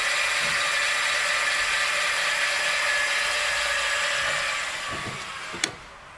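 An RV stabilizing jack on a Flagstaff Superlite 26FKBS travel trailer is cranked with a steady mechanical ratcheting whir that runs for several seconds. It then winds down and ends in a single sharp click.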